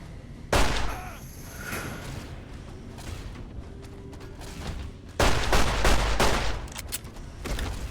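Gunfire from Fallout: New Vegas comes in two loud, close bursts of rapid shots, each followed by quieter rumble and clatter in the gaps.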